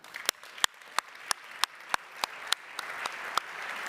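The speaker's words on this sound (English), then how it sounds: "Please give her a big round of applause." Sparse, evenly spaced claps ring out at an energy awards evening reception, about a dozen sharp hits at a steady rhythm over a quiet room background, sounding like one or two people clapping rather than a full crowd.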